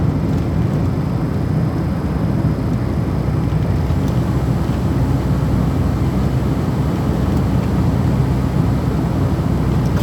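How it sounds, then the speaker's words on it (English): The ventilation fan of a Peugeot 205 runs inside the car, a steady low broadband whoosh and rumble that holds constant from start to finish with no speech. "I might have to put the fan on, so I apologise for the noise."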